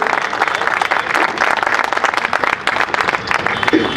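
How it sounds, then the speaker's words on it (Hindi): Audience at a Holi comic poetry gathering breaks into loud, close applause, with brisk, irregular clapping sustained throughout and faint voices mixed in. "एक बार जोर से तालियां बजाइए इतनी शानदार प्रस्तुति के लिए।"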